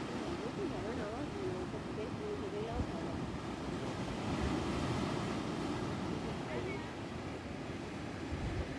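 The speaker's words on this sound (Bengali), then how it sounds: "এতটা উপর থেকেও শোনা যাচ্ছে প্রচণ্ড সমুদ্রের গর্জন" Ocean surf at Chiriya Tapu beach in the Andamans heard from a high clifftop, a steady distant roar of waves mixed with wind buffeting the microphone, continuous and broad without breaks.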